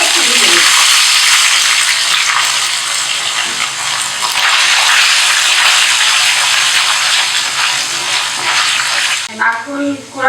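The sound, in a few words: grated coconut frying in hot oil with spices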